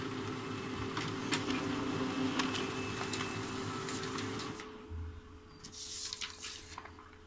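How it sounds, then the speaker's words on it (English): An HP LaserJet Pro M402d laser printer prints a test page, giving a steady mechanical whir and hum with faint clicks, then the drone drops away and a brief swish and rattle follows as the page feeds out. "once you click finish, a test page prints out."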